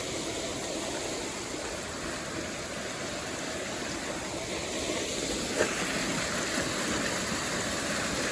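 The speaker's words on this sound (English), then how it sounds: "A little water crossing." Stream water rushes steadily at a hiking trail water crossing on the Appalachian Trail, a constant close broadband flow with no talk.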